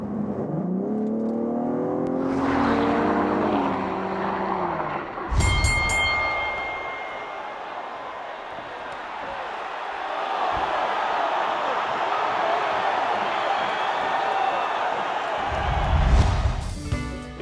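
A 2016 Cadillac ATS-V engine and exhaust revving up through the gears, a loud rising growl with sharp shift blips, then a sustained roar at speed and another burst of throttle near the end.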